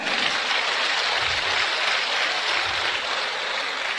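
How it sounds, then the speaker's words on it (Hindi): Continuous applause from an audience, a dense wash of many hands clapping at steady loudness for the whole stretch. "जोरदार ताली मारिए।"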